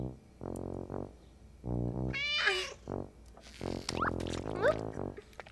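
A cartoon cat meows among other voice-like tones, with a few high, bending cries mixed into a short stretch of animated sounds.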